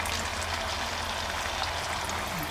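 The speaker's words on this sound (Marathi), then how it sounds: "असं थोडं थोडं पीठ घ्यायचं आणि चांगलंच आपल्याला तेलामध्ये सोडायचं" Pakora batter of potato and rice flour sizzling in hot oil, a steady dense crackle and hiss of frying with a low bubbling undertone, continuous and close with no voices.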